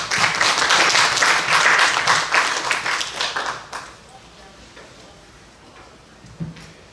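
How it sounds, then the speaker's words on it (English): A crowd clapping loudly for a few seconds after an academic lecture, then the applause fades to a quiet room hum with a faint thump near the end. "Please give applause again."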